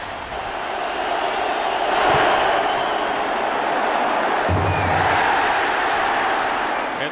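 Stadium crowd at an NFL game between the Colts and Redskins reacts after a missed field goal bounces off the upright, a broad roar of voices and applause swelling and then sustaining.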